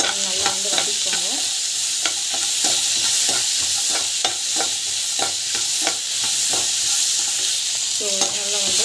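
Chillies sizzle and fry with salt in a pan while a spoon stirs and scrapes them in repeated strokes, steady and close, with a few short metallic knocks.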